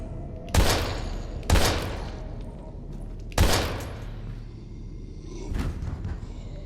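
Gunfire in the survival horror game Daymare 1998: three sharp, loud shots with pauses between them, followed by a softer fourth impact, over a low ambient game background.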